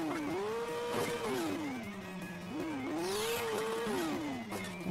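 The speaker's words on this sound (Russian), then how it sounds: "Тем более, такой тут двигатель мощный." A powerful monster truck engine in the Hill Climb Racing 2 video game drones loud and close, its pitch rising and falling in smooth sweeps as the throttle changes, with no talking.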